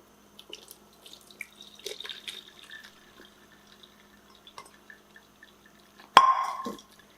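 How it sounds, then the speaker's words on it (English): Canned meat poured and drained into a container in a kitchen, with soft wet plops and drips followed by one louder splashing pour near the end, close by and with no talk. "Let's pour our meat in here."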